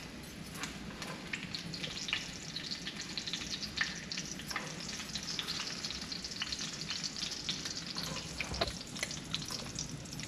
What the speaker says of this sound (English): the bacon is fried nice and crispy brown